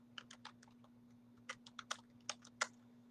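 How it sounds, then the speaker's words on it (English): Fingers typing a short message on a computer keyboard, a quick run of soft clicks in uneven bursts, with several louder, sharper keystrokes, close up over a steady low electrical hum, no voices. "I'm going to type her a little message."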